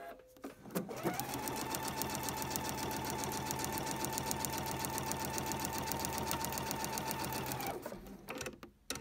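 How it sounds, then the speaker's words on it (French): A sewing machine runs steadily for about seven seconds, stitching paper-pieced fabric with a fast, even mechanical rhythm, close and moderately quiet, starting and stopping cleanly. "Et je peux aller installer le morceau suivant pour aller le coudre."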